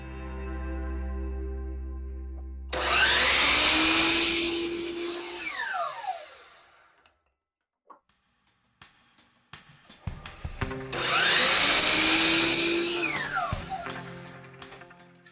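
Two bursts of a power saw cutting 45-degree angles on wooden fence picket pieces for a harvest crate, each loud cut running a few seconds with whining spin-down, separated by a quiet gap with small clunks of handling.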